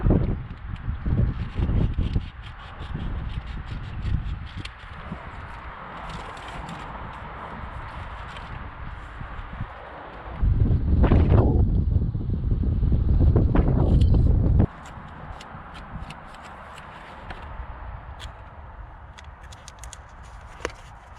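Gusty outdoor wind buffeting a microphone, loud rumbling bursts that rise and fall, with one especially heavy gust in the middle before easing back to a steadier blow.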